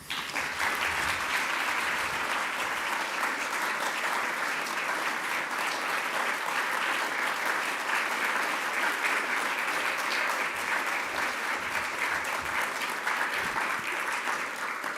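Audience applause welcoming former Secretary of Education Betsy DeVos at a keynote event on education law and policy, steady dense clapping from a large crowd throughout, loud and unbroken.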